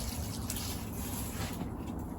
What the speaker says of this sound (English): before I pour the seaweed liquid in there